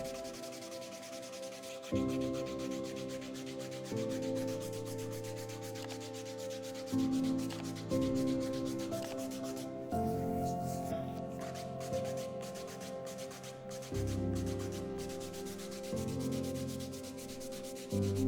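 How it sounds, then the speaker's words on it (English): A foot file rasping hard, crusty skin off a man's foot during a pedicure, in steady back-and-forth sanding strokes, close and continuous with no talking. "there's something so satisfying seeing all that hard skin being taken away and sanded down"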